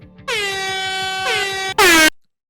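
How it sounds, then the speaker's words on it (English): Loud air horn blasts, a long sustained honk, a shorter second one and a final louder burst, piercing and close, ending abruptly in silence. "Okay, so I'm gonna bring the air horn in here"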